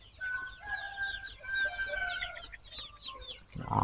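Free-range chickens in a garden, hens clucking and a rooster crowing in repeated calls at moderate distance, ending with a sudden louder rustle.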